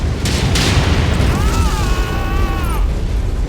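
Explosion of a destroyed mech in MechWarrior 5 combat: a loud, heavy boom with bursts, followed by a rising and falling synthetic whine over dense rumbling battle noise.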